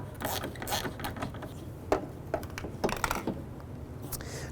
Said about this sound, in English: Using a T15 Torx bit and your ratchet, I'm going to go ahead and remove this forward mounted bolt.